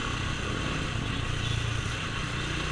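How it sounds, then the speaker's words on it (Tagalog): A 250cc motorcycle engine runs steadily at close range on a road near Kawit, Cavite, a continuous low hum with road and wind noise throughout and no voices. "Ito yung motor is 250cc na to."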